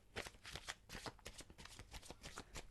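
Tarot cards riffled and shuffled, a rapid run of crisp papery flutters and soft slaps at close range, fairly quiet and steady with no talk.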